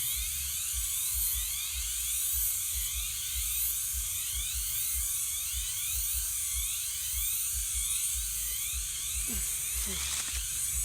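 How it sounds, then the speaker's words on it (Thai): Loud, continuous high-pitched buzzing of cicadas fills the air of a coffee plantation, dense and unbroken, with a faint low pulsing underneath. "สนั่นเสียงจักรจันทร์พี่น้อง"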